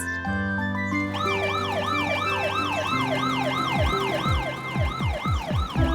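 A cartoon ambulance siren wails in steady repeating up-and-down sweeps, loud and close throughout, set over a bright animated music bed with passing vehicle whooshes near the end.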